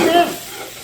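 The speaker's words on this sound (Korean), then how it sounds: "이 고춧가루를 볶아주는 거예요." A short burst of sizzling and stirring as chili powder fries in hot oil with garlic and vegetables for a spicy seafood stew, close and fairly loud.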